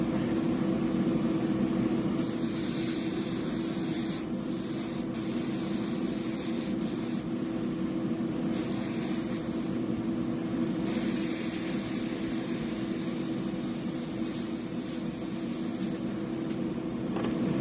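Steady hiss of an airbrush spraying lure paint through a 0.15 needle, the paint thinned with flow improver and carrying flake, with the spray cutting in and out in bursts over a constant background hum.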